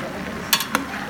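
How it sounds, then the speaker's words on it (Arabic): Onions frying in butter stirred in a pot, a soft sizzle under two brief scraping strokes of a utensil against the pan. "هذا البصل بعده بنقلب بيه"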